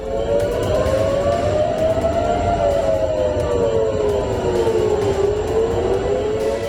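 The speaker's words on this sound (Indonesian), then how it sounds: "Sirine juga meraung di kota Tel Aviv" An air raid siren in Tel Aviv wails in a slow rising and falling sweep, heard from a distance over steady low background noise.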